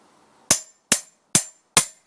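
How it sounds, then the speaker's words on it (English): A hammer strikes the central nut of a Vire boat engine four times in an even rhythm, each blow a sharp, loud, close metallic crack with quiet between. "give the central nut a big whack"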